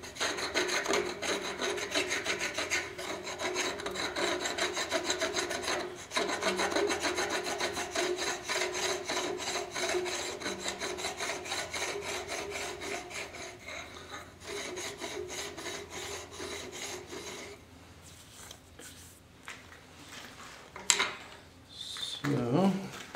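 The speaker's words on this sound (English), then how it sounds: "So let me get the file here. So we're going to take the burr off of here." A hand file drawn over metal to take a burr off, a steady run of close rasping strokes for about seventeen seconds before it thins out and a short clatter sounds near the end.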